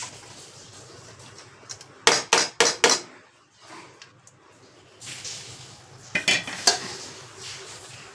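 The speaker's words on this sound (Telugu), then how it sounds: "కిందికి పైకి చేస్తే అంతా కలిసిపోతుందండి" Lemon rice being mixed in a pot, with a few sharp, close utensil clanks against the metal grouped in two short bursts and soft scraping and stirring between them.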